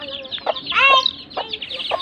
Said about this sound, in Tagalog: Ayan ang mga inahin.